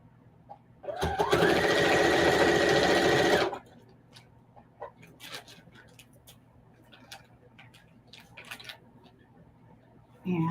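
A sewing machine quilting fabric for a crazy quilt runs loudly and steadily for about three seconds, then stops. Quieter rustling and handling of the fabric follow, and there may be faint talk in the background.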